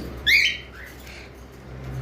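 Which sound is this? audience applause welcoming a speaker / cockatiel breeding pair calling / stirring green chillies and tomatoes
cockatiel breeding pair calling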